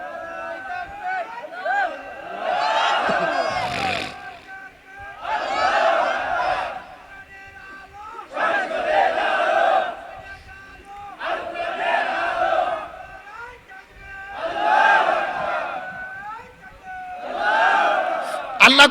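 A crowd at an outdoor religious gathering roars the takbir (Allahu Akbar) in repeated mass chants, several loud waves of massed voices separated by short lulls.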